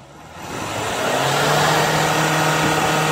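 A 2007 Hyundai Santa Fe engine, a worn vehicle that had been blowing heavy exhaust smoke, climbs from a low idle into a sustained loud rev as the accelerator is pressed, then holds a steady high drone.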